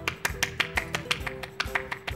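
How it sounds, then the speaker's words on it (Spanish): Hand slaps against a bare belly, a run of about a dozen sharp, evenly spaced smacks close up, with a faint tone ringing underneath. "te golpeas la barriga."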